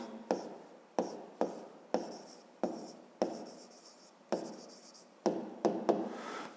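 Chalk strokes on a classroom board as math rays are written out, a series of sharp taps and scraping scratches in an uneven rhythm, close and fairly clear with no talking.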